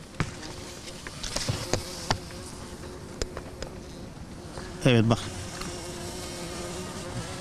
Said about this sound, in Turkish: Bombus arısı bu.